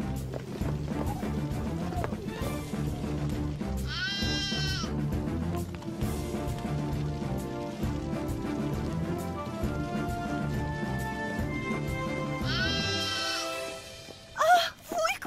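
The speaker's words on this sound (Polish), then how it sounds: "To wełniaczek, mały baranek." A little cartoon lamb gives two short, high, wavering bleats over a steady animated-show music score, with a brief clatter near the end.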